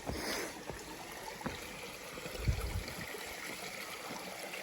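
Brook water flowing under a trail bridge, a faint steady trickle and burble with a few soft knocks and bumps nearby, outdoors and fairly quiet.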